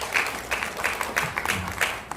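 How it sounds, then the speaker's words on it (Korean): Audience applause at an archaeology symposium, a brief round of moderate clapping from a seated crowd in a hall, fairly soft with a few louder claps standing out. "뜨거운 박수로 맞이해 주시기 바랍니다."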